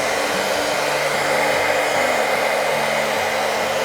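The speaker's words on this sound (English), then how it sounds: "we can try it with a hair dryer" A hair dryer blows steadily up close, a loud continuous whooshing airflow with a constant motor whine and no voices.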